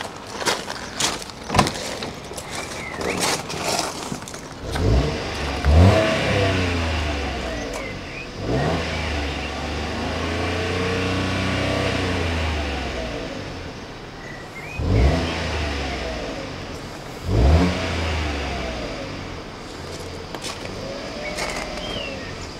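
A used car's engine idles up close, then revs up and down in repeated swells, with several sharp throttle blips and a steady running rumble between them.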